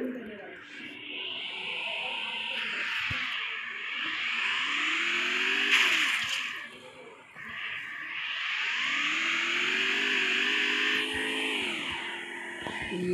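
Vehicle engine in Garena Free Fire rising and falling in two whining, revving passes with rushing game noise, moderately loud and alone.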